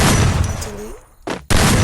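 Shotgun blasts in the mobile game Free Fire: a loud, dense burst of gunfire, a short gap, a single sharp shot, then another heavy blast, with no talking.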